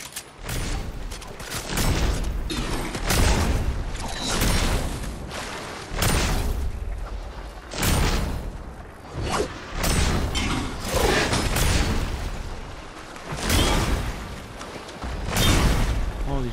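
Enemy gunfire in Fortnite, a dense run of repeated shots and bursts firing in irregular clusters over sixteen seconds, loud and close with occasional booms.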